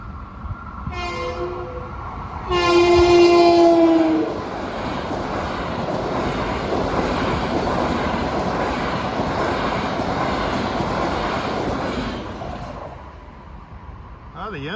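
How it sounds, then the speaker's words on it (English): An equipment train rolls past on the rails near a crossing in the Deer Park and Farmingdale area, loud and close, with a sustained horn blast early on followed by a long steady rumble and rattle of cars that fades at the end. "This is an equipment train."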